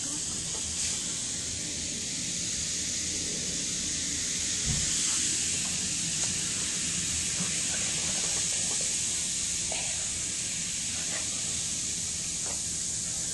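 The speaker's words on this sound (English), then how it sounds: "And then there's the Alka-Seltzer dissolving" Alka-Seltzer tablets fizz and dissolve in water, producing a steady, close hiss of bubbling carbonation throughout with a few faint clicks and taps.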